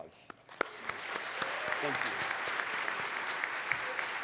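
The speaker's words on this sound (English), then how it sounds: "A round of applause." Audience applause at a leadership luncheon for a placing Envirothon team, an even crowd clapping that builds after a brief start, with a voice speaking briefly at the beginning.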